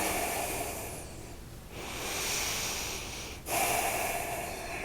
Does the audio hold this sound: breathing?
yes